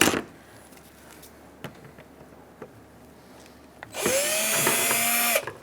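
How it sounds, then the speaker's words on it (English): A power screwdriver with a Phillips bit drives screws out of a car's AC condenser assembly on a 2007-2017 Ford Expedition, with a few faint clicks and then a loud whining burst of a second and a half, close by. "Now we're going to remove these. We're going to use a Phillips head screwdriver."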